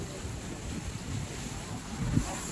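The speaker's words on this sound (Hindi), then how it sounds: "ये इसका है नीचे वाला डेक, पानी की लहरें" Water churns and laps against a boat's lower deck on the river in Budapest, a steady wash of waves mixed with wind buffeting the microphone, low and continuous.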